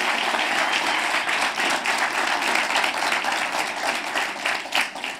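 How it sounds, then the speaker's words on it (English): An audience at a political gathering breaks into steady applause, many hands clapping at once, holding fairly loud and constant with a few louder individual claps near the end. "Let's give him a round of applause, ladies and gentlemen."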